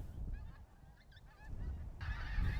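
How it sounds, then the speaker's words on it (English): A flock of thousands of geese at a feeding area gives off a run of nasal honks, some near and some distant, over steady outdoor rumble that grows louder toward the end. "the numbers of geese is immediately evident. They are here in their thousands."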